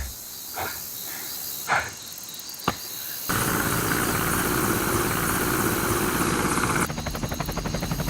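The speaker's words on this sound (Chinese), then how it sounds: "分散点注意力，就可以让他们注意不到天上的直升机了" A helicopter in a gunfight action film, first faint behind brief loud bursts, then a steady loud rotor and engine roar from about three seconds on that continues to the end.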